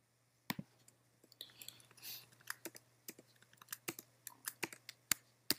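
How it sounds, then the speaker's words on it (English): Code being typed on a computer keyboard while building a Python and Django site: close, irregular keystroke clicks in short bursts and single taps over a faint steady hum, with no one speaking. "I'm gonna type class meta"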